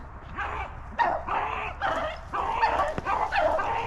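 Rabbit hunting dogs barking and yipping during a chase in the Pennsylvania brush, a string of close, sharp, repeated barks with brief whimpers between them.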